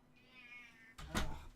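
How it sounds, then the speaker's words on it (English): A house cat gives a single drawn-out meow nearby, followed by a sharp thump of a door or knock. "Cat's going out again."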